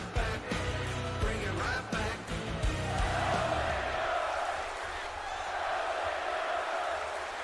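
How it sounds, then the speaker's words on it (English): Crowd cheering in a digital wrestling video game match, a loud, sustained roar of the audience under busy in-game music and impacts that drop away midway, leaving the cheering to swell on its own. "This audience cheering already for Dolph Ziggler."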